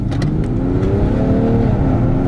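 A stage 1 tuned BMW 435d accelerates hard down a straight industrial-estate road, the engine note climbing loud and close as it pulls through the revs, ending with a sharp rise.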